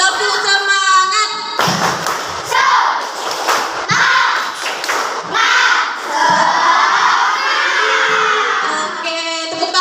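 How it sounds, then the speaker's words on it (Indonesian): A class of children performs a rhythmic spirit clap chant, with loud group shouting and thumping claps in bursts over about ten seconds, voices dominating throughout. "1, 2, 3, tepuk semangat."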